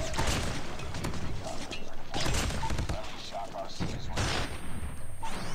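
Repeated R9 shotgun blasts in COD Mobile, loud close bursts in clusters across the clip amid busy game noise, with a voice talking underneath.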